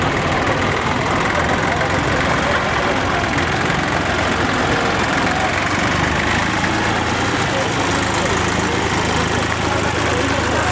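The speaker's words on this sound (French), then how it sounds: "un tracteur Fortson Dexta, donc qui date des années 58 à 64" A Fordson Dexta tractor from 1958–64, idling steadily during a parade of old farm machinery at a harvest festival in Blodelsheim, a loud, continuous low rumble close by, with a voice talking over it throughout.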